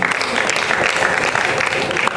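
A crowd applauds steadily at a healthcare foundation award presentation during a live-streamed event, dense clapping held at an even, loud level throughout with no voices on top.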